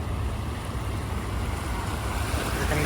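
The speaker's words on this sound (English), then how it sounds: "Here come the waves." Floodwater surges through a flooded neighborhood in a continuous loud rushing wash, with broadband churning water and wind noise on the microphone.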